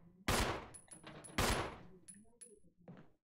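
Gunshots ring out in the Resident Evil Remaster HD video game: two loud, close blasts about a second apart, each with a decaying tail, followed by fainter clicks and a softer shot.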